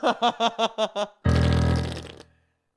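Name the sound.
fart sound effect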